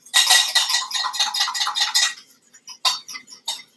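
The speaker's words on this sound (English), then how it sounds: "I have to mix all of these yolks" Egg yolks are beaten with a fork in a bowl. Fast clattering metal-on-ceramic taps come in a dense burst, then thin out into scattered strikes, sounding close and fairly loud with no talk.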